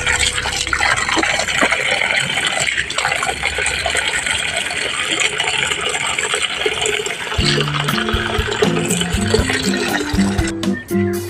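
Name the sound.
tap water running while washing fish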